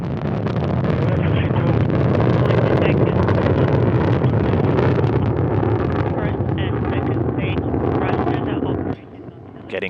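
Soyuz rocket with four strap-on boosters roaring through first-stage flight at a launch to the International Space Station, a steady, loud, broadband rumble that holds for about nine seconds before dropping off abruptly near the end.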